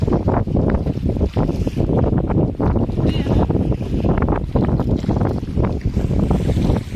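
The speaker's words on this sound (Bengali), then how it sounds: "বিশাল ঢেউ" Big waves crash around a boat in the Sundarbans while strong wind roars across the microphone, a loud, continuous churning rush of water with repeated slaps and surges throughout.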